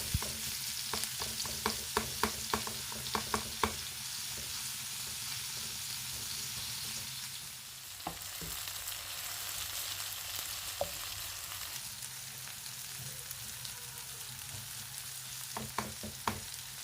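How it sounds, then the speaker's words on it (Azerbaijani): Chopped onions and chicken fry in a pan for a chicken ləvəngi, a steady close sizzle running throughout, with bursts of clicking spoon-against-pan stirring near the start and again at the end. "Doğradığım soğanları toyuğun üzərinə əlavə edib, birlikdə soğanlar qovrulub rəngi dəyişənə qədər ara bir qarışdıraraq qovururam"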